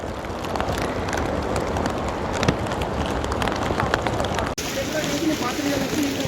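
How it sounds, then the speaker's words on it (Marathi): Steady, dense rain hissing outdoors throughout, with a brief dropout near the end before the downpour continues. "फुल पाऊस चालू आहे राव"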